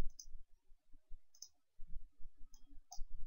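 A computer mouse clicks several times, sharp crisp taps spaced about a second apart with a quick double click near the end, close and quiet over faint low rumble, with no talk.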